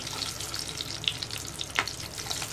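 Peeled garlic cloves frying in oil in a pan on a gas stove, a soft steady sizzle with scattered crackles and small spits, close and quiet with no speech.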